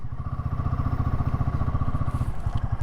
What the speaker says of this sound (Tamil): வண்டி வெளியே மூவ் ஆகுது.